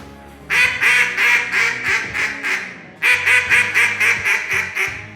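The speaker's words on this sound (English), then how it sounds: "you can hear them blowing them duck calls real loud" Loud duck calls are blown at daylight during a duck hunt in two rapid series of quacks, each run of about seven sharp, evenly paced honking notes, close and forceful.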